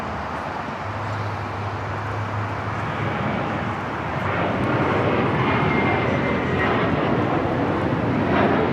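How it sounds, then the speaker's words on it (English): An Emirates airliner arriving from Dubai on short final to runway 24 right at LAX gives a broad, rising roar of jet engines that swells louder and closer over several seconds. "Emirates flight 215 coming up from Dubai."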